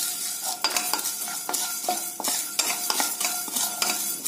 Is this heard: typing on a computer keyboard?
no